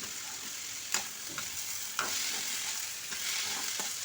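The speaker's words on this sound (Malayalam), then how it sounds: "അതിനുശേഷം മുറച്ച് വെച്ചിരിക്കുന്ന മത്തൻ ആഡ് ചെയ്യാം അത് ചേർത്ത് ഒരിക്കൽ കൂടി ഇളക്കി യോജിപ്പിക്കുക" Chopped pumpkin stirred and stir-fried in a pan for a pumpkin thoran, giving a steady sizzle with a few sharp spoon scrapes against the pan, close and alone.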